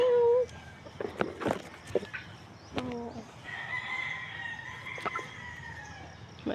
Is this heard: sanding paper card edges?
no